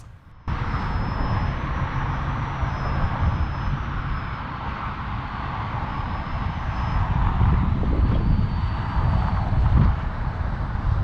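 Steady, loud wind roaring and buffeting across the microphone for the whole stretch, a broad rushing noise that swells slightly toward the end.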